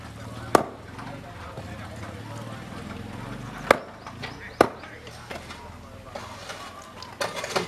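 Three sharp chops of a knife taking the head off a dried aara fish in a village kitchen, sparse loud single strikes spread apart over low background noise and murmuring voices.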